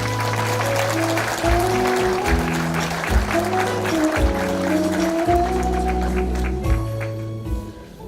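Applause from a crowd at the founding ceremony of a Korean political party, the New Politics Alliance for Democracy, sustained clapping under strong music-like tones and an announcer's voice.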